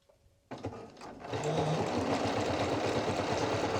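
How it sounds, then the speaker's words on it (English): A home sewing machine stitches elastic onto fabric; after a few soft handling knocks, the motor starts and settles into a loud, steady, continuous whirring run. "I'm just gonna start sewing."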